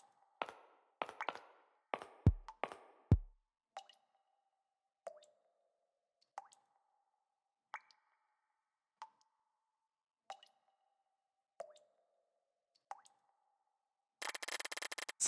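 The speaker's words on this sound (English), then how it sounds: "Murky, dark water drips endlessly from beneath the frame of the painting." Murky water drips steadily from beneath a painting frame in the horror game Pocket Mirror: after a quick cluster of plops, single drips fall one by one at slow, even intervals, close and clear against silence, with a brief burst of noise at the end.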